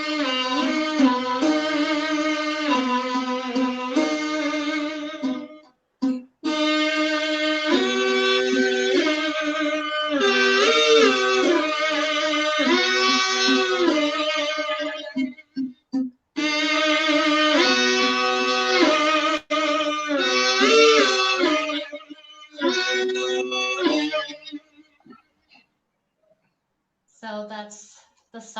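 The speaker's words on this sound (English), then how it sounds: "So that's the sound of the bam hum." A bamhum, the traditional Naga bamboo instrument sounded by humming into it, plays a rich, sustained buzzing melody with wavering held notes. The phrases are loud and close, separated by brief pauses, and it fades out near the end.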